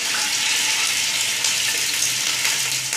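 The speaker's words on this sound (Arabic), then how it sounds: "حطينا في الطنجره شويه زيت سخن شويه، توا باش نحط الدجاج، نحطو يتقلى" Chicken pieces frying in hot oil in a cooking pot give a steady, dense sizzle that runs unbroken and fairly loud, close by, with no voices over it.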